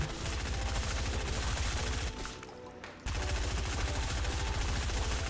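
Sustained SMG fire in Fortnite, dense rapid bursts of shots that cut out for about a second before resuming at full intensity, loud and continuous.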